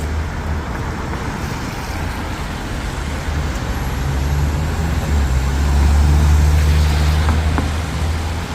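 Vehicles crawl along Bridge Street in the rain, a dense low engine drone with tyre hiss that swells louder around the middle as something heavy passes close, then eases slightly, with no voices.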